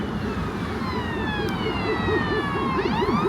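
Emergency sirens wail continuously with sweeping tones over busy traffic noise, a second siren joining near the end.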